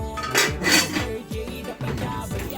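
A cooking pot and other kitchenware are handled in a newly furnished home, giving a run of close metallic clanks, knocks and clinks, several separate impacts with brief gaps between them and no talking.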